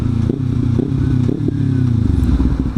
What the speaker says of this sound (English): I have the slip-on exhaust from M4, which you might be able to hear